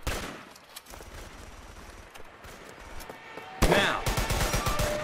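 Easy Red 2, a World War 2 game: a mortar fires with a sudden loud booming blast partway through, then a rattle of follow-on gunfire, over a steady hum of background battle noise.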